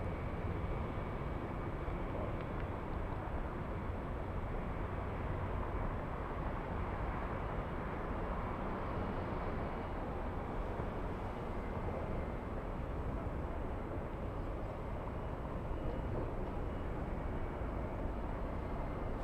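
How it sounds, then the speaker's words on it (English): A Delta airliner bound for JFK takes off from LAX, a distant, steady roaring jet rumble that holds evenly throughout with no talk. "JFK, Delta 951, taking off almost an hour late"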